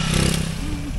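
A motorcycle rides past a driver licensing office in Davao, a steady engine drone with a rising pitch sweep, loud and close throughout the short moment.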